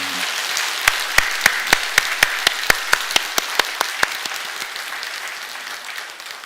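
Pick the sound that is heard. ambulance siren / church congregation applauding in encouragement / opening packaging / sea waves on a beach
church congregation applauding in encouragement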